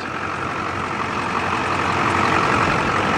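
A 6.6 liter Duramax diesel with K&N intake and aftermarket exhaust in a 2004 GMC 3500 SLT dually truck, running at a steady, loud idle with a constant deep rumble and clatter and no talk.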